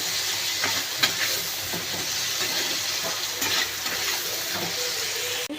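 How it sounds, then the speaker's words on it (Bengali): Tomato goes into a pan of already fried onions and sizzles steadily, a continuous close hiss of frying broken by a few soft stirring scrapes, with no talk. "টমেটোটা দিয়ে দিলাম, পেঁয়াজটা ভাজা হয়ে গেছিল"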